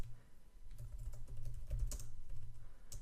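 Computer keyboard clatters steadily under a low background hum as code is typed, the keystrokes fairly quiet and continuous across the whole stretch.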